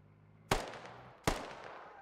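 Gunshots in a multiplayer shooter game: two sharp, loud cracks about three quarters of a second apart, each followed by a short decaying echo.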